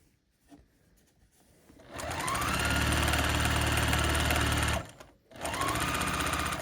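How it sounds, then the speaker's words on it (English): A sewing machine stitching a quilt block seam, a fast steady mechanical whir running for about three seconds, pausing briefly, then starting up again; soft handling sounds come before it. "and then I will sew all the way across"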